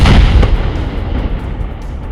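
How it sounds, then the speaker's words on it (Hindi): An army and police bomb disposal squad in Rajouri detonates an unexploded artillery shell: one loud, deep boom at the start, then a heavy rumble that rolls on and slowly fades, with no voices. "ये धमाके किसी हमले के नहीं"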